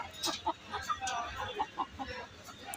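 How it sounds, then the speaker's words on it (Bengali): Hill-breed roosters and hens at a farm give short, scattered clucks and calls, fairly faint and irregular, with a voice speaking nearby. "সুন্দর সুন্দর সব মোরগ।"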